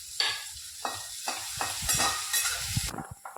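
Onion, green chili and capsicum fry in a pan, a close, crackling sizzle broken by several rhythmic scraping strokes from a stirring spoon.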